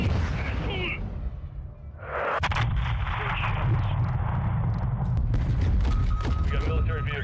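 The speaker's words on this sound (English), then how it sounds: "We're taking fire from the south and the school!" Gunfire and artillery in the Modern Warfare 2 (2022) video game on PC: a steady rumbling barrage of booms and shots with sharp cracks, loud and continuous, with radio-style voices talking over the combat.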